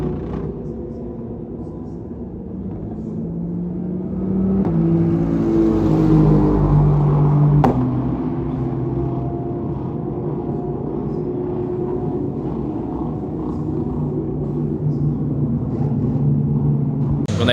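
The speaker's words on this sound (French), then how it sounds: "On a les voitures qui continuent de passer devant nous," Aston Martin race cars roar past the pits at the 24 Hours of Spa, a sustained engine rumble that swells to a peak and then eases into a steady drone, with voices talking at the trackside.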